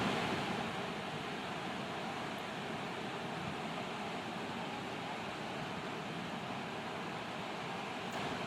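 Small whitewash waves break at a surf beach during a surf lesson, heard as a continuous, even roar of surf and wind with no distinct crashes.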